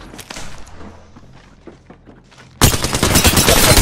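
Rapid automatic gunfire in the battle royale shooter Apex Legends erupts suddenly and very loud after a stretch of quieter scattered clicks and footsteps, then keeps hammering as a dense close-range burst.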